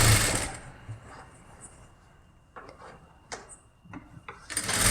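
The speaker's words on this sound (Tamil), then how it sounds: "இந்த கழுத்து பீஸையும் உள்ளே கொடுத்து இப்படியே தைச்சிட்டு வாங்க" A sewing machine stitches the neck piece of a blouse in close, whirring bursts, with short pauses and mechanical clicks between runs.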